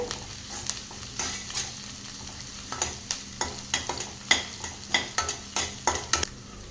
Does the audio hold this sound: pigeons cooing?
no